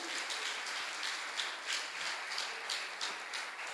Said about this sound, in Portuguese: Pode aplaudir ao Senhor com alegria.